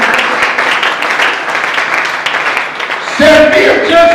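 Church congregation applauding during a French-language service, steady dense clapping from a crowd sustained throughout, with voices and music swelling in toward the end.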